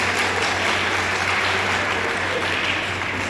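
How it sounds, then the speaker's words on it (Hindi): An audience at a district science club's divisional science model competition and prize ceremony applauds the children, a steady, continuous wash of many hands clapping at moderate level with no talk over it. "तो सबसे पहले तो हमारे बच्चों के लिए जोरदार तालियां सभी लोग हो जाती हैं।"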